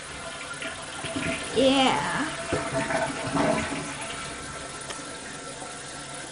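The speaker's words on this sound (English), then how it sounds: "I flushed that because it's full of toilet paper." A household toilet flushing nearby, a gurgling rush of water that swells and then trails off into refilling, with a person speaking briefly over it.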